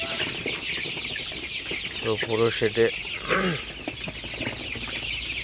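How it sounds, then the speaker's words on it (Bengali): Sonali super hybrid chicks and chickens cluck and peep around a shed while someone talks over them. "আমার সোনালি সুপার হাইব্রিড মুরগির বাচ্চাগুলা কিন্তু আমি পুরো শেডে ছেড়ে দিছি"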